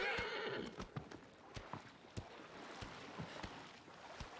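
Horse in the video game Shadow of the Colossus, with a whinny at the start followed by steady, rhythmic hoof clip-clops that are quiet overall.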